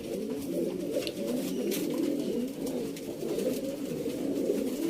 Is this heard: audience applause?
no